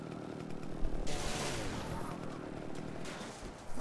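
A chainsaw in the video game Splatterhouse, a buzzing, rasping motor whine with bursts of harsh noise, heard quietly amid game effects.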